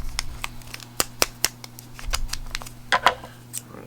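Scissors snipping open a reagent packet for a Hanna Checker nitrate low-range test, heard as a series of short, crisp clicks and snips spread across the moment, close and fairly quiet with no talk.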